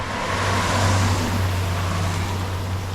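Cars pass on the Lonavala ghat road near the Shingroba temple, a steady engine drone and tyre rush that swells and fades as vehicles go by, fairly close and loud.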